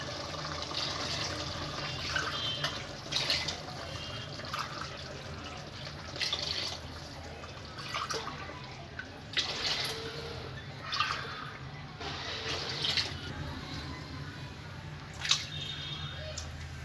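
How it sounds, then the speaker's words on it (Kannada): Water being poured from a glass into a cooking pot of boiling chicken palav, six glassfuls in succession, heard as splashing, trickling pours with brief pauses between them, fairly close and moderately loud, with no talking. "ಇದಕ್ಕೆ ಒಂದು 6 ಲೋಟ ನೀರು ಹಾಕೊತಾ ಇದ್ದೀನಿ ನಾನೀಗ."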